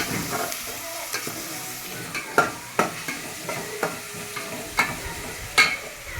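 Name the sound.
prawns frying and being stirred in a pan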